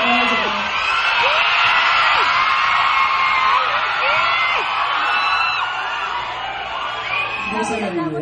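Large concert crowd shouting, whooping and cheering at a medley performance, a dense continuous roar of voices with scattered yells throughout.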